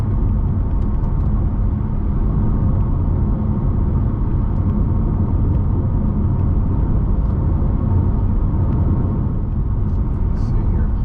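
A 2020 C8 Corvette's engine gives a steady, loud low rumble with road and cabin noise throughout while driving, continuous with no clear revs or shifts.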